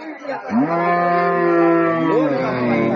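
A Sahiwal dairy cow at a cattle market gives one long, loud, close moo lasting about two seconds, a deep drawn-out bellow that rises and then falls.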